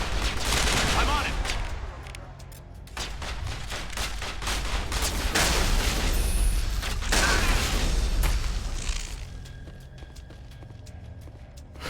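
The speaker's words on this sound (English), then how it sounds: "Niezły shotgun." Heavy shotgun blasts and rapid gunfire in the video game Mass Effect, loud repeated bursts over a dense battle din, fading to quieter background noise near the end.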